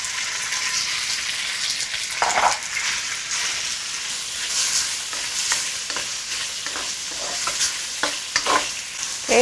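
Pork stir-fries in a pan with garlic that has already browned, a continuous loud sizzle broken by scraping and stirring clatter from the utensil, with no talking.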